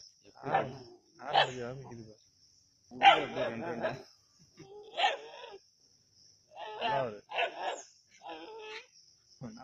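Several native Tamil country dogs hunting a snake in Keezhadi bark and yelp in separate bursts, fairly close, with short pauses between them and a faint constant high tone underneath.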